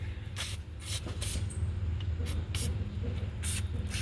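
Several short bursts of aerosol brake cleaner spray hiss out in quick succession, each a second or less, over a low background hum, during brake and rotor work on a 2007 Volvo S80.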